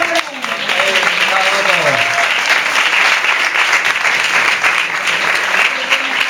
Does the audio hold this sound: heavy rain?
no